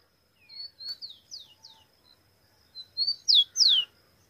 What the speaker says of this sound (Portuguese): O solto tá aqui cantando.